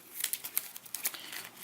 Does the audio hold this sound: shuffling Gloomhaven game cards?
yes